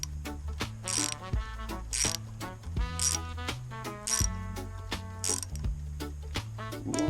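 Threading tap cutting threads into the bottom of a hole, giving repeated ratcheting clicks and creaking metal squeals in an uneven rhythm, close and fairly loud with no talking.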